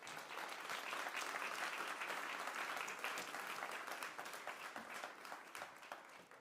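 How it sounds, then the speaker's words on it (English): Audience applause for Maroš Šefčovič, Executive Vice President of the European Commission, at a conference on raw materials and security, an even wash of clapping from a large room that holds steady before slowly thinning out. "can we have a very warm round of applause, please, for Maroš Šefčovič, the Executive Vice President of the European Commission."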